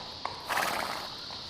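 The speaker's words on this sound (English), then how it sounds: "The Mounties are bringing a new parade horse, great-nephew to the Queen's much-loved horse Burmese." A Mounties parade horse at a horse show gives a single hoof clop followed by a loud, close whinny that trails off, with no one speaking.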